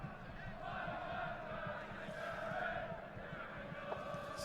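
Soccer fans in the stands of an Ottawa Fury FC versus Miami FC match cheer their team on. A steady, distant crowd roar fills the stadium without distinct stomps on the metal seats standing out.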